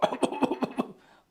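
A voice demonstrates a spasmodic, whooping-type cough: five rapid, harsh coughs in a quick run, close and loud, trailing off into a short breath.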